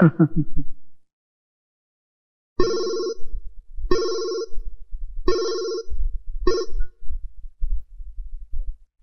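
A landline telephone rings in a home, four distinct harmonic bursts evenly spaced and loud, with a low hum beneath; a brief voice is heard just before the rings start.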